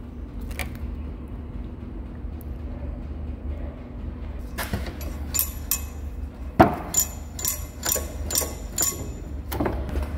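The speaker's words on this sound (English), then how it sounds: "So that sounds like the washer flopping around on the bolt." A loose washer flops around on a bolt inside the damaged barrel of a hydraulic cylinder from a CAT 16H motor grader. Quiet low hum first, then a run of sharp metallic clinks and knocks at irregular intervals, with no talk.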